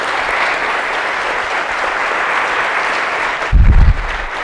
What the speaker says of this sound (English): So, OWU, let's clap it up for your very own.